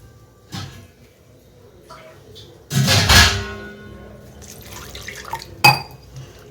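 Fresh water poured into a vessel of washed fish in a home kitchen for fish curry, with a loud gush midway, lighter trickles and a sharp clink of the container near the end.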